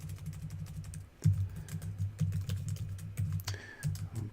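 Brief bursts of key taps on a computer keyboard as a password is entered, close and quiet, in short uneven clusters with pauses between them.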